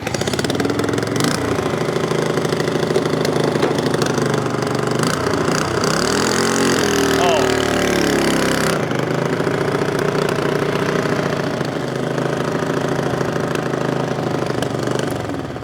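A motorcycle engine runs steadily nearby, a loud continuous rumble that rises briefly in pitch as it revs, then settles back to idle.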